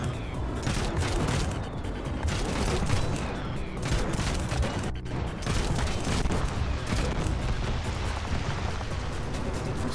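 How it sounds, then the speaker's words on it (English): Six cannons fire in rapid, dense succession in the video game Trailmakers, a continuous barrage of heavy booms and blasts that stays loud throughout. "Six cannons."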